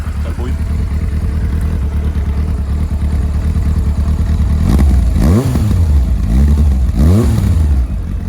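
An old motorcycle being rebuilt as a café racer, its engine idling loudly and steadily close by, then revved in several rising and falling swells, with someone talking over it.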